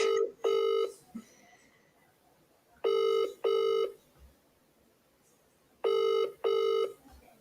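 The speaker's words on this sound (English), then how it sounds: "I'm ringing right now." A UK telephone rings out on an outgoing call, loud and clear, in three double-ring bursts with pauses between them and no talking over it.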